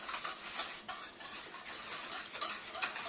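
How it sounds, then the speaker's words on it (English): Dry ingredients with salt and pepper being blended for corn dog batter, a quick soft scraping and light clinking of a utensil against a bowl, close and continuous. "you want to kind of blend the dry ingredients first"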